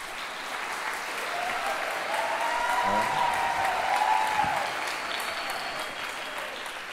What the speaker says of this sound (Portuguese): uma salva de palmas à professora Rúbia.